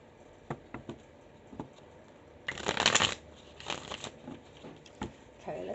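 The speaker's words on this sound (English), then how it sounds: "Let's pull a couple of tarot now to go with this reading" Tarot cards are shuffled close by: a few soft taps and slides, then a dense riffling burst, followed by more brief shuffling flutters.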